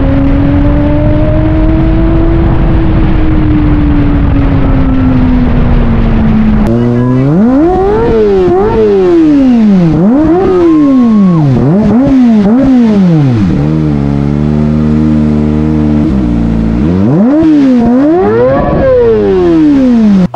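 Small motorcycle engine revved hard repeatedly, rising and falling in sharp bursts with a steady drone beforehand, loud and close.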